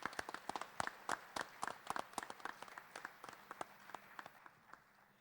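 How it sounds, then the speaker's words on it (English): A small audience at a community awards night claps for the evening's honorees, a scattered, fairly quiet patter of individual hand claps with distinct sharp strikes that thins out toward the end. "Let's have another round of applause for tonight's outstanding honorees"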